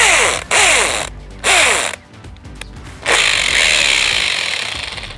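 A broken cheap right-angle drill motor whines loudly in bursts, cutting out twice briefly, then runs steadily with a rattling, ratcheting grind as the motor turns but the chuck doesn't spin.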